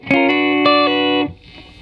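Electric guitar played through a distortion effect, a Fender Telecaster Deluxe or Schecter Demon 7, strums a few bright, sustained chords with sharp attacks, then rings out and fades to a quiet tail.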